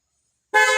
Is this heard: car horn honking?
yes